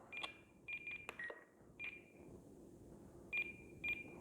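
An E-flite radio-control transmitter for a Night Vapor UMX plane emitting its center-tone beeps: short, clean electronic pips in uneven bursts, close and fairly quiet.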